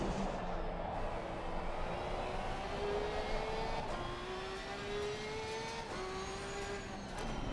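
Race car engine at the Hungaroring in Assetto Corsa Competizione, a steady loud drone whose pitch climbs smoothly through gears, dipping at each upshift near four and six seconds before rising again, with continuous tyre and wind roar underneath.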